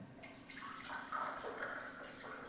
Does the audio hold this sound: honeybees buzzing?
no